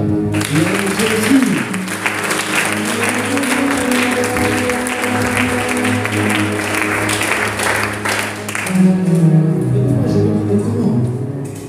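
A church congregation applauds loudly and continuously for several seconds, dense clapping over sustained music or voices, easing off slightly toward the end.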